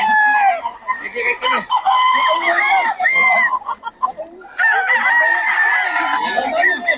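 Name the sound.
gamecock rooster crowing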